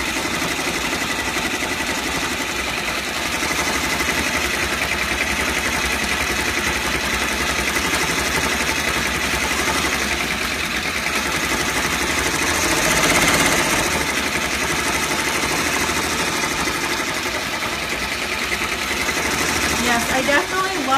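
A multi-needle embroidery machine runs at steady speed, giving a continuous close whir with fast rhythmic mechanical clatter for the whole stretch.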